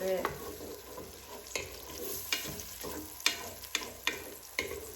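Onions fry in a pan, a soft continuous sizzle broken by a series of sharp scraping stirs roughly every half second to second, close and quiet, with no talking.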